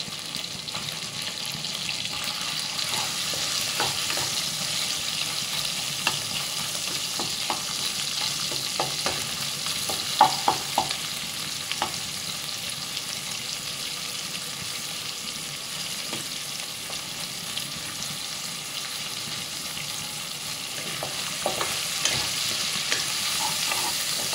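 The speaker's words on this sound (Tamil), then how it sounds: "இது கொஞ்சம் வதங்கிடுச்சு. வெங்காயம் போட்டுக்கலாம்." Onions sautéing in a pan for white kurma, a continuous hiss of frying with occasional spatula scrapes and taps against the pan, steady and close throughout, no talking.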